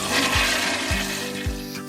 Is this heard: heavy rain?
no